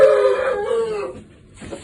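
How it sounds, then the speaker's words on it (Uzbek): A Gerakl breed rooster crows once nearby, a loud drawn-out call over about a second that trails off, followed by a short quiet gap and faint background noise. "Haqiqiy gerakil xo'roz."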